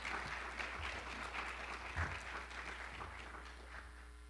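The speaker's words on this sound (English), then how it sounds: "Give them a round of applause." An audience at a university event gives a round of applause, a steady wash of many hands clapping at moderate distance, a little faint, over a low constant hum.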